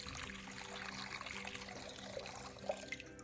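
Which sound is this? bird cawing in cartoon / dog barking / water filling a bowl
water filling a bowl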